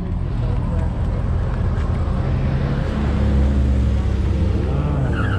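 A racing car's engine drones steadily on an autocross course, holding a continuous, fairly loud roar that swells slightly toward the end, with no clear pass-by peak.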